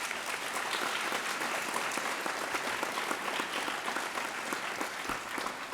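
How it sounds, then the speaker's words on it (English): Sustained applause from an indoor audience at a youth recognition awards ceremony, a dense, even clapping that continues throughout. "And let's give our Rachel Kezian Award recipients one more round of applause."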